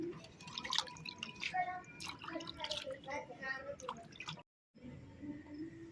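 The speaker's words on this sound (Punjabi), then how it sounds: "ਲਓ ਮਾਂ ਜੀ, ਹੱਥ ਧੋਵੋ।" Water is poured for hand washing in a Punjabi village mud house, making splashing drips and trickles under close, ongoing talk before a brief silence.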